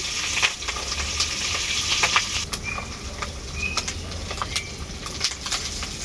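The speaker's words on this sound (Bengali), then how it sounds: "তেলটা খুব ভালোভাবে গরম হয়ে গেছে মাছের ডিমগুলো আমি এখন ভেজে নেব" Fish roe fries in small batches in well-heated oil for a pumpkin and fish roe dish, producing a continuous close hiss dotted with sharp pops and crackles that runs steadily throughout with no voices.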